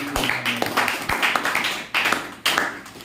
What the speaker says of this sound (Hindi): ताली बजा भाई, एक बात।